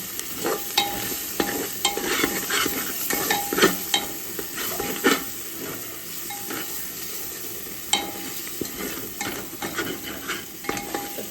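Tomatoes for chicken biryani sauté in a pan, with a steady frying hiss and repeated spoon scrapes and clinks as they are stirred, close and moderately loud.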